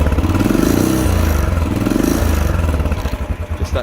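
A 2020 Royal Enfield Bullet Trials 500 Works Replica single-cylinder motorcycle idles with a loud, close, thumping vintage beat, the pulses loosening and spreading out toward the end.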